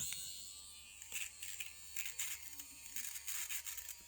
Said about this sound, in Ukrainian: Давайте подивимось, як от така електробритва з цим справиться.